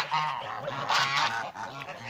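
Geese honking outdoors in a village yard, a dense cluster of overlapping nasal honks and calls continuing throughout at close range.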